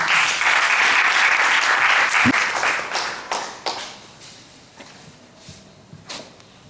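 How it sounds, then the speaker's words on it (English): An audience at a child abuse prevention event applauds a barrister, loud dense clapping at first that thins out after a few seconds into scattered last claps, with a thump partway through. "We have to give a round of applause for Barrister"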